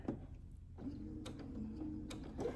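A Brother Essence VM5200 sewing machine stitches a quilting piece in a steady, close mechanical whir with fast rhythmic needle ticking, broken by a few brief clicks and pauses.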